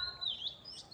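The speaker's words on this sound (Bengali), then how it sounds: "পাখির কিচিরমিচির ডাক, অত্যন্ত সুন্দর একটা পরিবেশ" A bird chirps briefly outdoors in a residential area near buildings, with a thin rising and falling call followed by a second short tweet, faint and alone.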